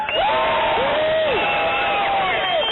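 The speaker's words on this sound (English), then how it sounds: "Just cheer." Audience cheering and whooping at a political talk, a loud sustained crowd roar with rising and falling voices, heard close and steady throughout.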